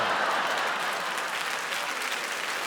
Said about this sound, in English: Yeah, you better clap.